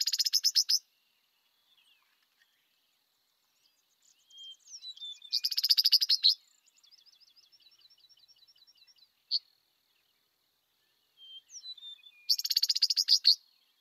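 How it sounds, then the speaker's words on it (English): Eastern meadowlark calling in grassland, with short, bright chattering bursts that repeat several times between quiet gaps, plus one dry, rattle-like buzzy run in the middle, all fairly distant and alone. "That rattle-like call is unique, so you can identify that sound as coming from a meadowlark"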